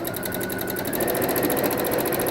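A sewing machine stitches wavy cross hatch quilting behind applique, its needle chattering in a fast, even, continuous rhythm close by and fairly quiet, with no voices.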